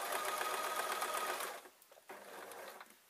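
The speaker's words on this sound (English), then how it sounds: "And then I'm just going to sew this up." A sewing machine stitches two fabric pieces of a small drawstring bag, running in a steady close whir for about a second and a half, pausing briefly, then running again more quietly.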